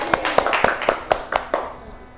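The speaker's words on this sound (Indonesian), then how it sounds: "Tepuk tangan untuk kita semua." A small group in a classroom claps hands together, about nine distinct, fairly close claps in an uneven rhythm that tapers off after two seconds, with no talking over them.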